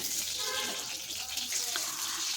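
Cut potatoes fry in hot mustard oil inside a clay pot, making a steady, close sizzle throughout.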